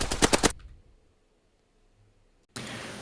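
Gunfire from weapons in a multiplayer shooter video game: a rapid burst of several loud, close shots lasting about half a second, then near silence, then a dense loud burst of firing resuming at the end.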